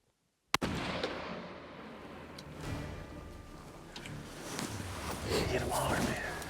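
A single sharp gunshot on a hunt, fired at a large game animal, cracks loudly once near the start, followed by outdoor rustling and low movement noise.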